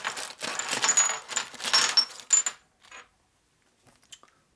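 Aluminum 45 Harley head bolts are handled, clinking and rattling against each other in a few close metallic bursts, then stopping into near silence with a couple of faint clicks.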